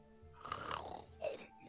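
A voice imitates a character's snoring: two rough, gurgling, throaty snorts, close and fairly quiet, the first longer and the second shorter.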